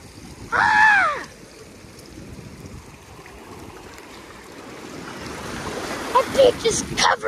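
Surf washes over rocks on the beach at Avon-by-the-Sea, a steady broadband rush under wind noise. A loud tonal burst and, later, brief voices or calls cut through the water sound.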